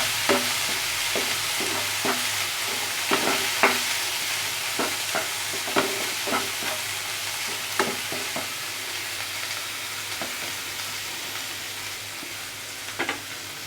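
Masala spices fry in hot mustard oil for a masala pomfret fish dish, a steady sizzle broken by repeated sharp clicks of a spatula scraping and stirring the pan, with no voices.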